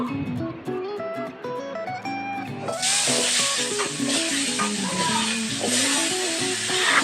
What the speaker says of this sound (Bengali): এবারে ওই তেলে আর একটু তেল দিয়ে আলুগুলি ভেজে নেব দিয়ে দিচ্ছি কেটে রাখা আলু